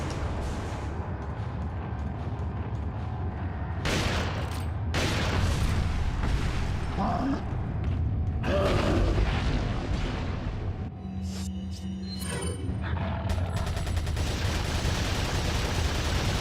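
Gunshots and booms in the video game Resident Evil 4, loud irregular blasts and bursts scattered across a noisy game soundscape.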